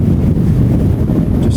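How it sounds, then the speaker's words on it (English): Strong wind buffeting a microphone outdoors on a blustery exposed spot: a loud, continuous low roar and rumble that swamps everything, steady throughout with no pauses. "It's just so windy here today. It's absolutely howling up here."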